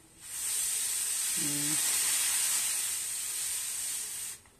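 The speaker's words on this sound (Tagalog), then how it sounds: "Ganyan lang pala pagpalabas sa pressure niya" Steam hissing steadily and loudly as pressure is released from a pressure cooker, a continuous close jet lasting several seconds before cutting off abruptly, with a faint brief voice partway through.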